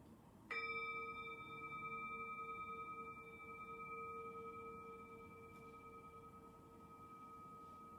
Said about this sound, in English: now I'm going to invite the sound of the gong, so you can bring yourself back to the session